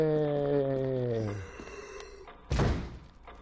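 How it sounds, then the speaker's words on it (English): A zombie in the video game Resident Evil REmake vanishes with a single loud, heavy thump, preceded by a voice held on a long drawn-out note and light game background sounds. "So the zombie teleports away with a loud thump."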